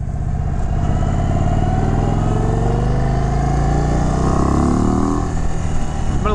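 A 2023 Indian Chief Sport motorcycle engine idles steadily while warming up, a continuous deep rumble with a throaty low-end pulse, close and loud throughout without talk.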